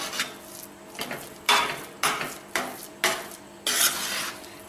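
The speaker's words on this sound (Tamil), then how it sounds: "சாதமே தெரியாமல் நல்லா அப்படி மசிச்சு விட்ருங்க. பருப்பும் சாதமும் ஒன்று சேர்ந்துருக்கணும்" Cooked rice and lentils for ven pongal are stirred and mashed in a pot with a series of about six rhythmic, close-up scraping and squelching strokes, with no talking.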